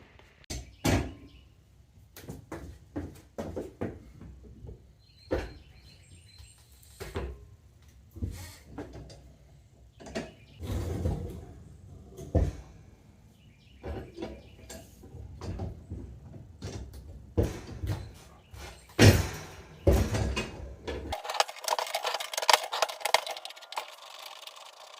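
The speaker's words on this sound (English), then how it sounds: "break the bead of this tire" A lever-and-paddle bead breaker works on a motorcycle tire leaking from the bead, giving irregular metallic clanks, knocks and rattles up close, with a brief louder hiss-like scrape near the end.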